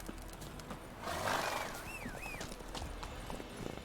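Roach, a horse in The Witcher video game, gallops through White Orchard with steady hoof clip-clops and a whinny, while game music plays behind.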